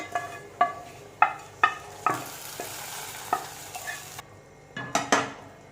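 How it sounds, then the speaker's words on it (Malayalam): Fried mustard seed tempering added to a simmering Kerala tomato drumstick curry, a run of sharp metallic spoon knocks against the pot spaced about half a second apart over a soft sizzle, close and clear. "കടുക് വറുത്തത് നമുക്ക് ഇതിലേക്ക് ഇട്ട് കൊടുക്കാം."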